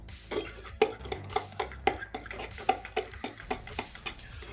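A spoon stirs beaten egg into banana bread batter in a bowl, producing a rhythmic series of wet scraping clicks against the bowl, close and fairly loud, roughly two strokes per second.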